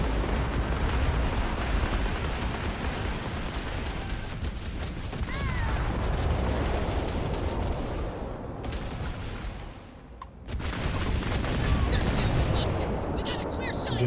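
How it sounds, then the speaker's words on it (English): Automated turrets fire continuously amid explosions during a Starfield space-pirate firefight, a dense, loud barrage of gunfire and booms that briefly drops out near the end before resuming. "Those turrets wiping people out."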